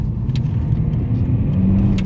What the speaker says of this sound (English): it doesn't make the best noise, but again, it's a diesel and it does the job